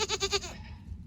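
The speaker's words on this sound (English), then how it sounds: "I fell in love with a little orphan pygmy goat named Benjamin" A little orphan pygmy goat gives a single short, quavering bleat with a rapid pulsing wobble, close and clear, then fades into quiet background.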